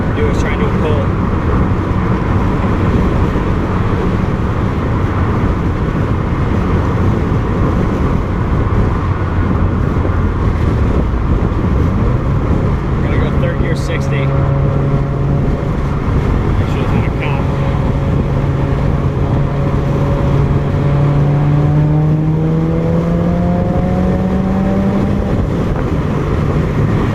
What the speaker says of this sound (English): I'm going to drop these windows. It's a little bit windy on the highway, but you'll be able to hear, hopefully, the exhaust a little bit better.